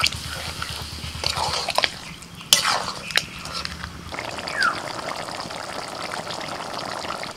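Water poured into a pan of chicken to make gravy for coriander-leaf chicken, a liquid trickle and splash with a few clinks of utensils, close and moderately loud, settling into a steady faint sizzle.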